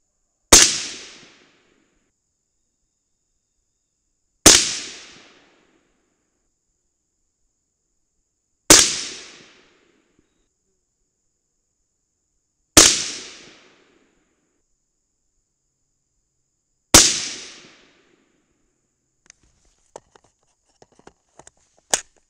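A rifle loaded with 26.5 grains of Varget powder and 55-grain full metal jacket bullets fires five loud, sharp shots at an even pace about four seconds apart, each ringing out briefly before fading, followed by faint scattered clicks.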